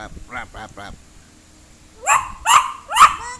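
Three sharp, loud dog barks in quick succession, following a few moments of quieter talking.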